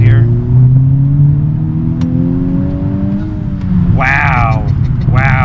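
A 2021 Honda Civic Type R engine hums steadily and rises in pitch as the car accelerates away, with a couple of sharp tonal revs near the end, heard loud and close from inside the cabin.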